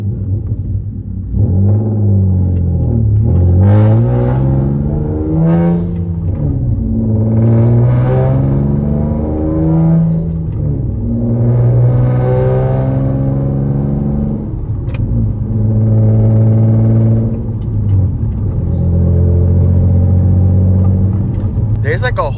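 A swapped 7th-gen Nissan Maxima engine rumbles loudly up close while driving, revving up and down in repeated surges with some crackle, as voices talk over it.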